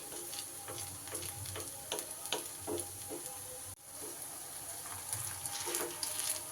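Pumpkin pieces frying in oil give off a continuous crackling sizzle, broken by light scraping and tapping as they are turned over.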